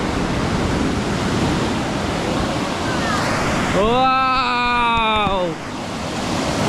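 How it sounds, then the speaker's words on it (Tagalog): Strong ocean waves roll in on a golden-sand beach in Pangasinan, a loud continuous surf roar close by, while a person exclaims over it partway through. "Ayan ang lakas ng alon no."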